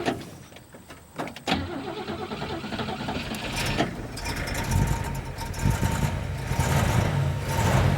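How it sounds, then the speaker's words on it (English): A 1959 Cadillac Coupe Deville with a 390 cubic inch V8, four-barrel carburetor and dual exhaust cranks briefly, catches and settles into a steady, rumbling idle that is close and moderately loud, with no talking over it. "So we'll just start the engine up."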